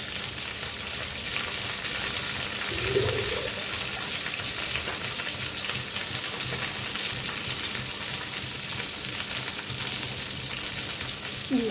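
A paste of cumin, coriander powder, salt and turmeric mixed with water hits a hot pan for a katla fish curry, giving a continuous loud sizzle and bubbling frying hiss that holds steady throughout.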